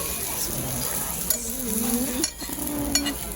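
Fried rice cooks in a pan at a Japanese ramen restaurant with a steady sizzle, scraping stirs and faint clinks, while a voice hums under it.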